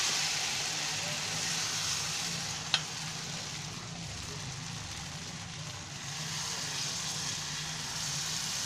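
Rice flour batter for ghavne sizzles on a hot griddle, a steady close hiss of frying that holds throughout, with a single brief tap partway through and a voice speaking over it.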